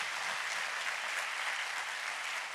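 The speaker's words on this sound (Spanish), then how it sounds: "Le voy a darle ese aplauso al Señor" Steady, dense applause from a large church congregation, evenly sustained throughout with no pauses or voices standing out.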